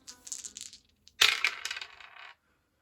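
Dice roll in a board game: two bursts of small rattling clatters on a tabletop, the second louder and longer, with no voices.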